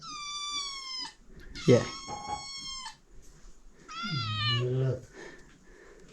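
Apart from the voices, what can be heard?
kittens meowing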